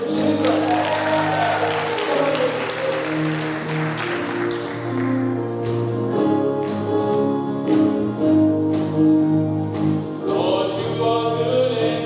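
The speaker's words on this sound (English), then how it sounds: "Let's make some noise for Jesus." A chapel congregation claps and cheers during a worship service, with loud sustained applause and whoops layered over music with a steady bass and sung tones, and voices throughout.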